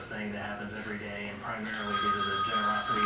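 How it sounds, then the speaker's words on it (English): A telephone bell rings indoors in a steady repeating trill that grows brighter partway through, heard under an ongoing conversation. "The phone."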